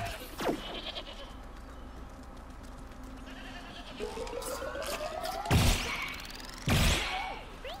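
A goat bleats in Plants vs. Zombies Garden Warfare, with several loud, wavering cries near the end standing out over game noise, preceded by a sharp thwack and a rising tone.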